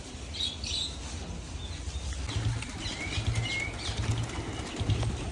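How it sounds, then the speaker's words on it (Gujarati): Pigeons land with bursts of fluttering wingbeats, some close and some farther off, over a steady outdoor hum, while faint chirps and coos come through now and then; no one speaks. "તો તમે જોઈ રહ્યા કબૂતર ઉતારે."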